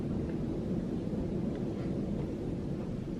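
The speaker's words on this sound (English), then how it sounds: "that is the sound of the wind that's going on outside." Low, rumbling wind roars steadily outside during a snow storm, a continuous dull whoosh heard from indoors with no distinct gusts or voices.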